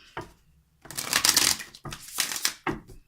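Tarot cards riffled and shuffled in several quick bursts, crisp papery flutters close by, separated by brief pauses.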